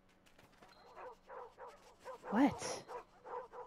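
Faint dog barks and yips from the video game Endling come in short repeated bursts, partly under a player's voice, with one clearer yelp in the middle.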